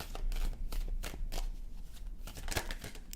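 Tarot cards are shuffled and drawn for a pick-a-card reading, with close, quiet bursts of riffling and snapping card sounds followed by a few sharp flicks as cards come off the deck.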